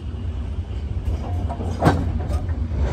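Long passenger train rolling through the Sahara desert, a steady low rumble of rail cars with a few faint rattles and clacks, continuous and fairly close.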